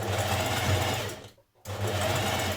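A sewing machine runs steadily through thick, heavy thrifted dress fabric, a close, loud continuous whir that breaks off briefly for a pause before resuming at the same even pace.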